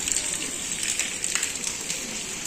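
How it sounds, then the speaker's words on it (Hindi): Steady rain falls outdoors while the sun is out, a continuous close hiss of drops on surfaces with no pauses and no talking. "देखो धूप भी आ रही है और बारिश भी आ रही है।"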